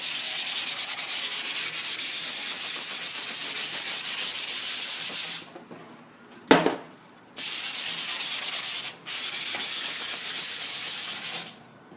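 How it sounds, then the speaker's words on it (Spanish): Sandpaper is rubbed in long, rhythmic strokes over a smooth sheet to rough up its surface, a loud close scratchy rasp that stops briefly twice, with a short knock in between. "le vamos a dar con la lija, no demasiado, simplemente una pasada para quitar esa primera lámina por ambos lados"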